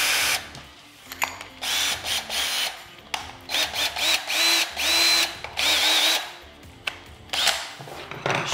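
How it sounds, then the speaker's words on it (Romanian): A power drill fitted with a carbide masonry bit bores holes in a wall for plastic anchors, whining in repeated close, loud bursts separated by short pauses. "Luăm bormașina și punem burghiul cu vidia."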